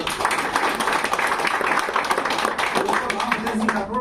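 An audience at a gathering claps loudly and steadily, a thick, continuous patter of many hands that lasts the whole stretch.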